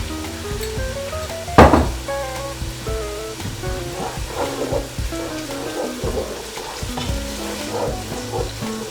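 A curry masala with green chilies sizzles steadily in a pan as it is stirred, with a sharp clank of a spoon early on and repeated scraping strokes over a continuous frying hiss, close and fairly loud.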